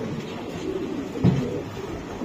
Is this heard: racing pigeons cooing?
yes